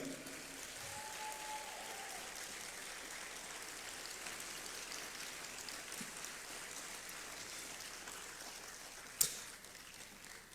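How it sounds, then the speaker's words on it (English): An audience applauds at a Ghana citizenship ceremony, with steady, faint, distant clapping throughout and one sharp click near the end. "A big round of applause, ladies and gentlemen."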